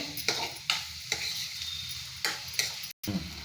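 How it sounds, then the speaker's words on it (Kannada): A spoon scrapes and stirs bitter gourd stir-fry in a hot pan after powdered jaggery goes in, with several sharp scraping strokes over a steady soft sizzle and a brief pause near the end. "ಬೆಲ್ಲ ಪುಡಿ ಮಾಡಿ ಇಟ್ಕೊಂಡು ಹಾಕಿ ಮಿಕ್ಸ್ ಮಾಡಿ ಚೆನ್ನಾಗಿ."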